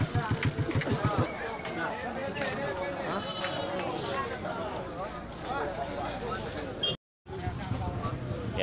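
Rams, billy goats and sheep bleat over and over in a busy livestock market ahead of the Eid al-Adha sacrifice, dense and close, with people talking throughout and a brief dropout near the end.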